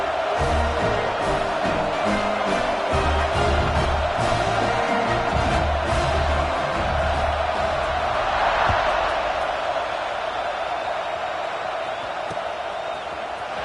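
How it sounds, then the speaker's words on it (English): Stadium crowd at a football game keeps up a loud, steady roar and buzz after a touchdown, with occasional whoops and cheers rising from the wash of noise, continuous throughout. "this crowd is buzzing after that last score"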